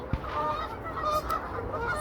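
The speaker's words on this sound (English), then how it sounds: "And these birds, oh my God, I think they think that I'm about to feed them." Geese honking close by at a lakeside cabin patio, a steady chorus of overlapping calls with one sharp loud honk near the start.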